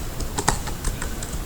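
Quick, irregular clicks of keys on a computer keyboard, close and distinct, several strokes within a second and a half, with no voice over them.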